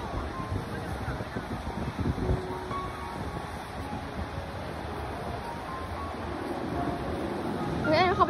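Sea waves and wind at a beach, a continuous broad wash of surf with gusty wind noise rumbling on the microphone.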